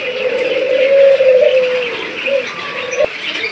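A pair of doves, one male and one female, coo loudly and close by in a long, steady, tonal call that trails off, with faint background noise and a brief chirp near the end.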